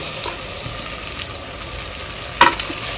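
Tomato and onion sautéing in a pan produce a soft, steady sizzling hiss close by, broken by a few light stirring taps and one sharp utensil clink near the end.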